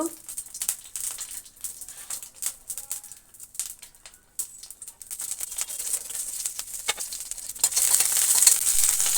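Green chillies frying in groundnut oil in a pan, a crackling sizzle with scattered pops and stirring clatter that swells louder toward the end.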